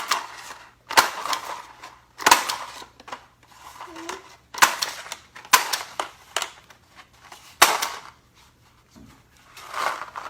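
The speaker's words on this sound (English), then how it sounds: "Sandwich the other plate on top of it and staple around." Stapler punching through two paper plates around their edges to make a shaker, a string of sharp, close metallic clacks at uneven intervals with rustling paper in between.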